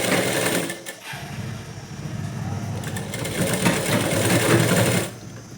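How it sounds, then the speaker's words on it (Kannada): A sewing machine stitching a fabric sleeve runs close and loud in a steady whirring drone, briefly dropping out near the start before resuming and stopping at the end. "ಒಂದು ಕಾಲು ಇಂಚಷ್ಟು ಗ್ಯಾಪ್ಗೆ ಸ್ಟಿಚ್ ಹಾಕೋತಾ ಬನ್ನಿ"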